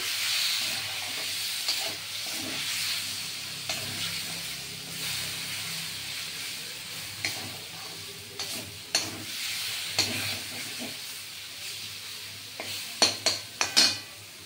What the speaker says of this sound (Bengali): দিয়ে এবার নেড়ে চেড়ে দেখুন